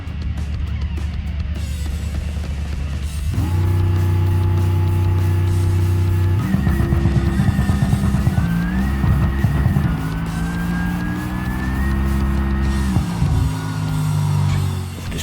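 Supercharged Gavril Barstow no-prep drag car in a BeamNG drag race, its engine roaring loud and close through hard revving gear climbs, with a rising whine riding over the steady blare for most of the run.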